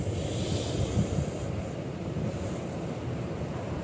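Surf breaking at Praia da Galheta beach in Porto Belo, Santa Catarina: a steady, loud wash of waves with wind rumble buffeting the microphone, continuous throughout with no talk.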